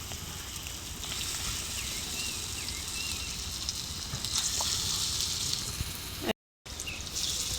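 Lentil fritters sizzling in hot oil on a tawa, a steady close crackling hiss that runs almost continuously, broken by one brief dropout near the end.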